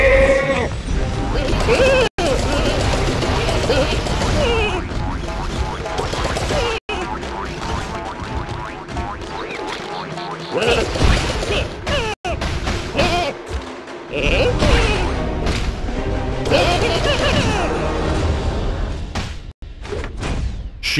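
Repeated bleats from a Sheep Creep enemy in Skylanders Trap Team over busy game music and effects, loud and close, with a few abrupt cuts.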